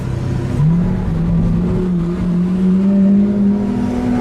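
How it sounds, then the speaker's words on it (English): A Lamborghini Aventador SV driven with the roof removed, its engine droning loudly and close, rising in pitch as it accelerates, then holding a steady, strong hum as it cruises. "now we're going to enjoy the noise of the car top down."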